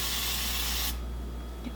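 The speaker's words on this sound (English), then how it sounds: "I am going to spray the measuring cup with a little bit of oil" Cooking oil sprayed from a can into a measuring cup, a single close hiss lasting about a second that cuts off abruptly, followed by quiet room tone.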